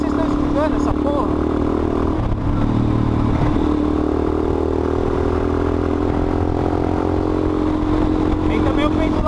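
A motorcycle during freestyle stunt riding, including a wheelie, its engine droning steadily and loudly throughout with clattering and scraping, while voices talk over it.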